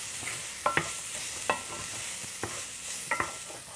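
Onions fry gently in a pan for beef stew, giving a steady soft sizzle while a utensil knocks and scrapes against the pan a few times, close by.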